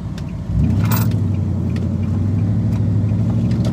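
A Nissan Titan truck's engine catches and settles into a steady, close idle rumble with a deep, even throb that holds without any voices.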